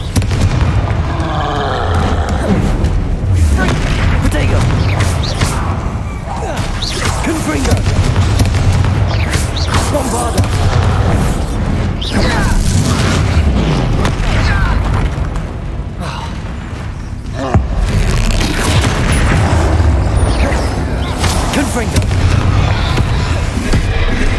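Bombarda and Confringo spell explosions in the video game Hogwarts Legacy, a loud, dense barrage of booms and crackling blasts with deep rumbling lows, nearly continuous for over twenty seconds, with a speaker's voice calling out over the din.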